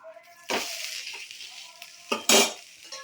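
Ragi and wheat flour dosa sizzles in a hot pan as a little oil goes on, with a loud burst near the start and a sharper flare of hissing toward the end, plus light scraping between.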